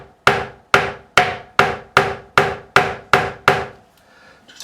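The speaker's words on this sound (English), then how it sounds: "I'm going to hit it with my fretting hammer, and I'm just going to hit it with a nylon side." Nylon face of a fretting hammer tapping the frets of a Harley Benton Dullahan guitar: nine crisp, evenly spaced taps, close and loud, each with a short ringing decay, then quiet.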